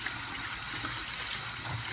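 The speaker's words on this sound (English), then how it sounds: "The cabbage needs to at least be washed 2 to 3 times under running tap water." Running tap water pours steadily while mustard cabbage is washed, a constant soft gushing rush with no breaks.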